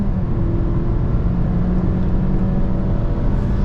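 A Honda Civic with a 1.5-litre turbo petrol engine, 182 hp, pulls under throttle at high speed, its engine hum building steadily beneath constant road and wind rumble, with no voices.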